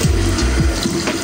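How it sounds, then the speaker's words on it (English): Running water from a bathroom sink tap flows steadily and loudly, with a few splashy surges as someone rinses their face, close to the microphone and with no talking. "There we go, I just splashed off."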